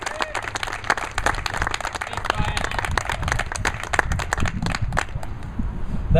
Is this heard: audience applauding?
yes